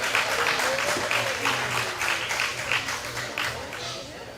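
Audience applause for exhibitors at a county fair hog show, a steady crowd of clapping with a voice talking over it.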